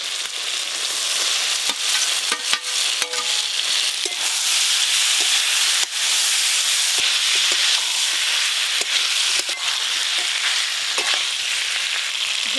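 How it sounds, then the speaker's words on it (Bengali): Vegetables fry in a spiced masala with chopped tomato and salt, a dense continuous sizzle and hiss broken by sharp clicks of a spoon stirring against the pan, loud and close without talk. "মশলা তো কষে নিলাম, ওপর দিয়ে ভেজে রাখা সবজিগুলো দেব।"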